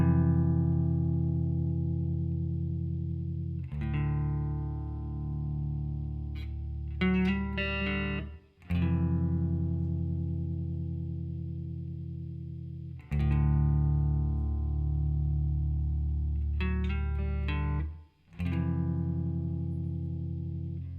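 Electric guitar playing the relaxed, sparse outro of a song: long ringing chords held for several seconds each, with a few quick higher picked notes between them, repeating the same pattern twice, close and clean with no talking.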